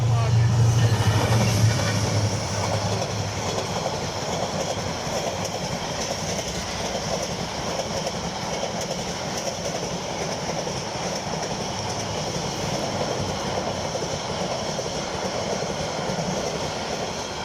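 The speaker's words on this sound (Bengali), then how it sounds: "আজকে আমাদের প্রথম ব্লগের প্রথম ট্রেনটা হচ্ছে ঢাকা স্পেশাল ট্রেন" The Dhaka Special train passing through Comilla railway station, a loud, close, continuous rumble with clickety-clack of wheels on rails throughout.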